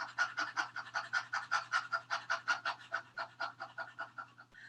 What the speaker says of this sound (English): So pant with me just for like 5 minutes.